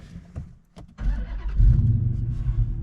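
A 2022 Dodge Challenger, newly fitted with an upgraded and unlocked PCM, cranks briefly and fires up, its engine rising into a loud, deep idle rumble.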